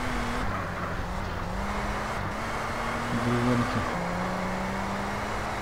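A car driving in GTA San Andreas Multiplayer gives a steady, close engine drone with a humming pitch that shifts up and down as it cruises, over constant road noise, while someone briefly speaks.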